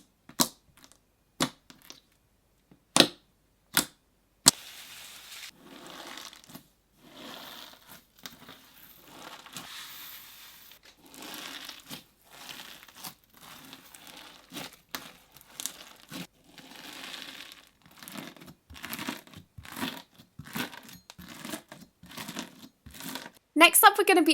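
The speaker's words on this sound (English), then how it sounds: "This created really good crunches, but it meant that it had a lot of fallout and it was super crunchy." Crunchy clear slime with confetti and a heavy dose of activator being squished, giving a few sharp isolated pops, then a long run of crackling, crinkly crunches in quick uneven bursts, close and fairly quiet.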